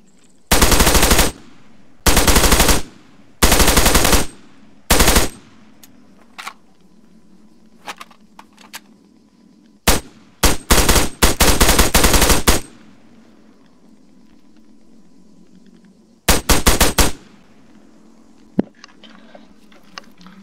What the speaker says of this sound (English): Now just the plain AK-74. So if we settle it down, we get nice and ready for a firing test.